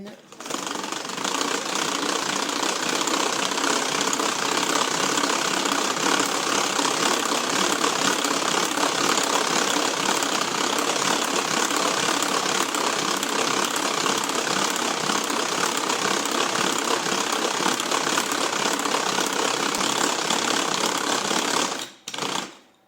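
An electric hand mixer runs on speed 1, its whisks beating a cake mixture in a steady, loud mechanical whir that holds nearly unbroken, then cuts off briefly near the end.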